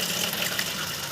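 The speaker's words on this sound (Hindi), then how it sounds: "तो ये 7 बोतलें हैं जिनमें मैंने पानी भरना है।" Water pours steadily into plastic bottles from a tap, a continuous broadband rushing gush at moderate level, with no voices during the brief fill.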